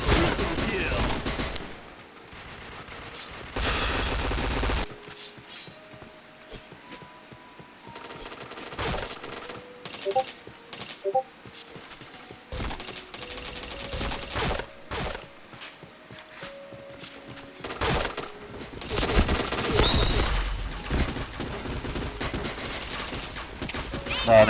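Gunfire in a shooting video game, with bursts of automatic fire and scattered single shots, some loud and some distant, broken by gaps and short in-game tones, with footsteps in places.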